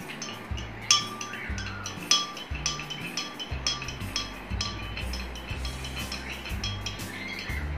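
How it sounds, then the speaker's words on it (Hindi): Stirring colour into a homemade play dough mixture in a glass bowl, with repeated clinking and scraping of a utensil against the glass in a steady, busy rhythm throughout, close and fairly loud. "अब मैं मिक्स करती हूँ।"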